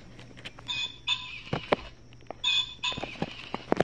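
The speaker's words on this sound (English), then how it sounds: "another ringneck pheasant" Electronic ring-necked pheasant call from an Audubon plush bird toy, two short repeated bursts of harsh squawking notes, close and fairly quiet amid small clicks.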